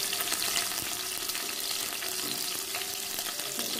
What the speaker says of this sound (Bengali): আর আমি তেলের মধ্যে পেঁয়াজ কুচি এবং কাঁচা লঙ্কা কুচি দিয়ে দিব।